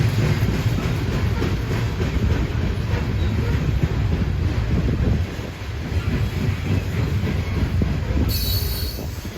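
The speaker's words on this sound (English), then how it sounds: "It's so weird to me to film a mainline coal train" A mainline coal train rolls steadily past at close range, a continuous loud rumble of railcars with wheel squeal and rhythmic clatter throughout.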